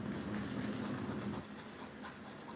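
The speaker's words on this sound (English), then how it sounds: "we're going to take our nail drill anyway, and we're going to go in there and grind it" A steady high-pitched electric nail drill whir with a grinding buzz as it grinds acrylic powder, loud at first and then easing slightly, running continuously without pause.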